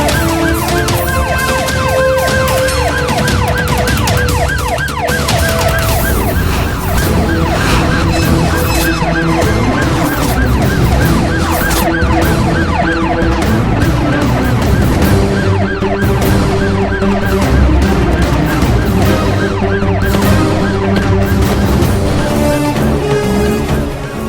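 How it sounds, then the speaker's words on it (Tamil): An ambulance siren wails on a road in a Tamil TV drama scene, loud and sustained with repeating rising and falling tones, accompanied by a dense layer of music or vehicle sound for the whole stretch. "ஏதோ ஆம்புலன்ஸ் வண்டி ரோட்ல போயிட்டு இருக்கடா."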